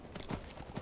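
Horse hooves clip-clopping in the video game Skyrim, a quick run of soft, rhythmic hoofbeats at moderate level, heard alone over a faint background.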